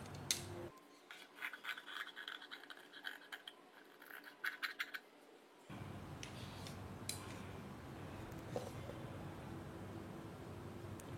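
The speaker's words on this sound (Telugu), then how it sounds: "ఇక్కడ నుంచి ఇలా మనం ఈ కటింగ్ అన్నది ఇలా నేను కిందకి చేస్తాను" Scissors snip and rasp through blouse fabric in a quick series of close, crisp cuts, then the cutting stops and a softer, steady background hiss takes over.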